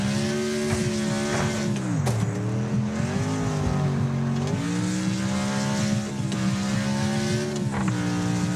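A racing car engine from a video game roars loudly and continuously, its pitch sweeping down and back up as it shifts and revs, with faint tire noise and no talking.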